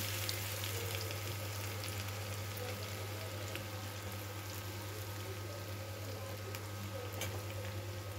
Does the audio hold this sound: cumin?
yes